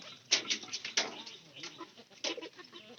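Chickens in a coop cluck in short irregular bursts, moderately close, with scattered peaks and some scratching-like rustle between calls.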